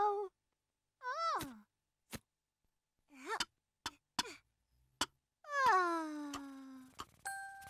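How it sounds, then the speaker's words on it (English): Cartoon cat sounds from a children's animated show: short separate meows and sighing moans with rising and falling pitch, mixed with bright dings and clicks, clear against silence. "it's the little black cat"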